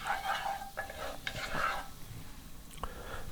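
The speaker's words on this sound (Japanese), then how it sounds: "まずオリーブオイルを入れて鍋を温めて、そこに先ほどしずれにしたニンニクを入れます" Garlic gently cooking in olive oil in a warm pot, with soft stirring scrapes and a light, intermittent sizzle close by; no talking.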